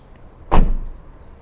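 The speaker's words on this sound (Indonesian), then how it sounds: "pintu belakang pun ini udah vakum. Jadi kalau kita tutupnya pelan-pelan, kayak gini tadi ya, masuk sendiri." A Land Rover Defender 90 P400 XS Edition rear door pulls itself shut by vacuum soft-close, one short muted thud, close by and otherwise quiet.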